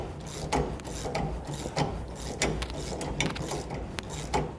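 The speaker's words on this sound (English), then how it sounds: "And now we can start tightening it down." Wrench ratcheting as leaf spring suspension bolts are tightened on a 2018 Chevrolet, with repeated short rasping strokes in an irregular rhythm, close and moderately loud.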